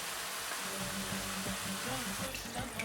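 Water is poured into a cooking pot over chicken pieces with turmeric, coriander and a stock cube, producing a steady splashing pour that runs throughout.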